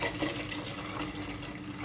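Mineral water pours steadily into a cooking pot for soup broth, a continuous close splashing stream that runs the whole time without talk.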